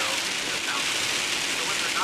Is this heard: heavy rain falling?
yes